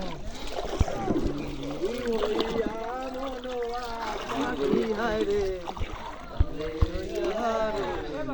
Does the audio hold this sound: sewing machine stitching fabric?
no